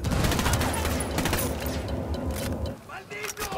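Bursts of gunfire fill a firefight in Ghost Recon Wildlands, with loud, dense, overlapping shots up close that thin out near the end while voices talk over the action.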